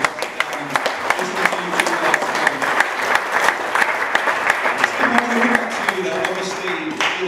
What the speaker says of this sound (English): Let's give that a huge round of applause.